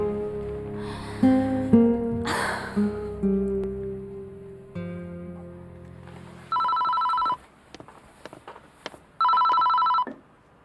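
A telephone rings in two long electronic bursts a few seconds apart, loud and close, after a stretch of sustained musical tones.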